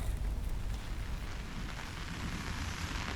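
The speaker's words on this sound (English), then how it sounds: "Oh, it's starting to rain." Rain beginning to fall on a shelter made of two ponchos joined together at a campsite, a soft, steady patter and hiss with no clear separate drops, heard alone without talk.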